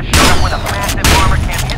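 Gunfire in the video game F.E.A.R. 2 bursts out in two loud, dense volleys of rapid shots with a brief lull between them, close and booming.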